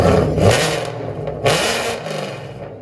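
An 850 hp Procharged Ford Mustang 5.0 with long tube headers and 4-inch straight pipes revs loudly nearby, two surging roars with a rough, throaty idle between them.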